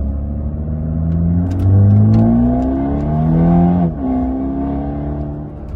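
A four-cylinder Toyota Supra engine in sport mode revs up and down in rising and falling sweeps, loud and close, with no talk over it.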